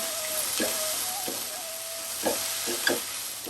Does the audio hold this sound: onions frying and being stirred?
yes